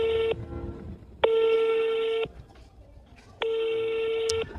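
Telephone ringing unanswered when a kidnapped child's family is called, three long steady ringback tones separated by pauses with low background noise between them.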